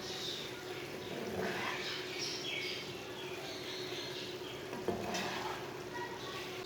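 Mash dal with garam masala and fresh coriander is stirred in a pot, giving soft scraping and stirring sounds over a faint, steady sizzle, with quiet talk in places.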